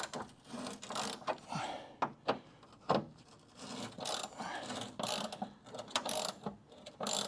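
A ratchet wrench works on a side skirt or cowl shield bolt during restoration of a crew cab Dodge Charger, giving faint, close, irregular clicking and ratcheting in short bursts with small metallic knocks between.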